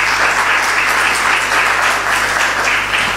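Dense, steady applause fills the hall at a promotional concert in Radzyń Podlaski, a loud continuous wash of clapping from a large audience with a faint hum underneath.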